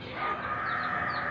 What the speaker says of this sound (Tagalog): Oh, mga manok niya.